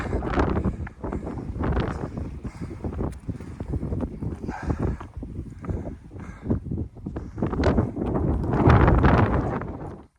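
Strong wind blows across an exposed mountain ridge beside cliffs on the Appalachian Trail, roaring and buffeting the microphone in loud, uneven gusts throughout, with no talking.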